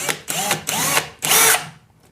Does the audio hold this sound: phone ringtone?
no